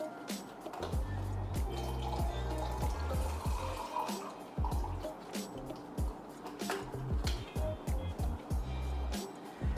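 Cranberry juice pours into a cocktail shaker that already holds vodka, making a continuous, close, gurgling liquid stream with drips and splashes under a low background hum.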